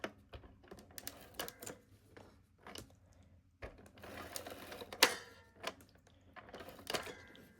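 Tape gun applying adhesive to a Stampin' Up! Christmas card, a series of close, sharp clicks and taps in irregular bursts with short pauses, fairly quiet, no talk.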